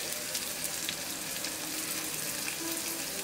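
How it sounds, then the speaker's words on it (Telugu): Onions fry with rock salt in a pan, giving a soft, continuous hiss and sizzle at low volume with no voices. "కొంచెం రాక్ సాల్ట్ వేస్తారు, తొందరగా ఆనియన్స్ ఫ్రై అవుతాయి."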